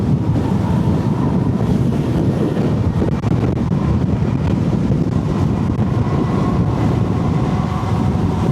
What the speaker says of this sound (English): This wind is horrible.